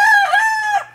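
A rooster in a chicken coop crows once, close and loud, a bright harmonic call that holds steady and then drops off at the end, with no one talking.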